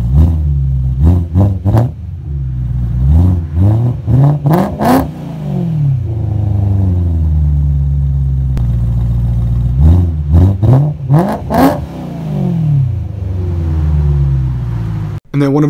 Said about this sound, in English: And then I had another video with a few light revs here,